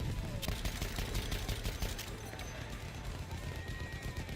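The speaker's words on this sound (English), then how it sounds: "Machine gun, one of theirs." Gunfire from Battlefield 1 multiplayer, with dense bursts of automatic machine gun fire and scattered shots crackling continuously at moderate distance, layered over a rumbling battlefield bed.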